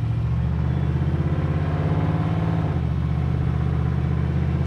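A 1963 Chevrolet C10 pickup idling up close, its engine giving a steady, loud low rumble with an even throbbing pulse and a slight shift in pitch partway through.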